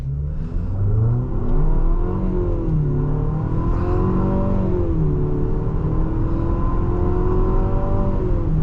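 A 2026 Infiniti QX60 Autograph pulls hard through a timed acceleration run, its engine note rising steadily with a shift or two, loud and close throughout with no talking.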